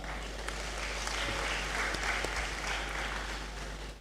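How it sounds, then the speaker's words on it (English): An audience in the Great Hall claps at a university congregation ceremony, a continuous moderate patter of many hands over a low steady hum, with a few sharper nearby claps. "Will you clap for that?"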